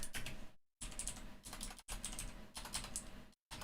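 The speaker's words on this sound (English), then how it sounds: "You hear me typing." Quick, steady clatter of fingers typing on a computer keyboard, close and crisp, in bursts split by short silent gaps, with no voices.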